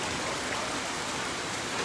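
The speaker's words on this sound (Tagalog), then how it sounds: "Lakas po ang ulan." Heavy rain pouring onto a flooded main road at White Beach, Puerto Galera, a dense steady hiss of drops and running water with no voices.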